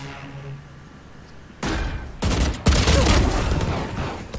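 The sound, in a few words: shotgun fire in Valorant video game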